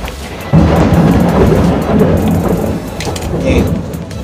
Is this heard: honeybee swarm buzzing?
no